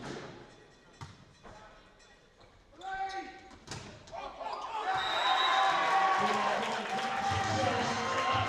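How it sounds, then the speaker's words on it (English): Crowd roar swells and holds loud at a men's Super 8s volleyball final between City of Sheffield and their opponents in 2015, following a few scattered ball thuds and a brief whistle-like tone, with a commentator's voice running over it. "A lot of noise in the crowd now here for City of Sheffield."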